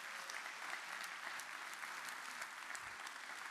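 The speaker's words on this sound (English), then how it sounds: "one more round of applause" Audience at a TBEX Europe travel blogging conference keynote applauding, a dense, steady clapping that sounds fairly distant and quiet, with no talk over it.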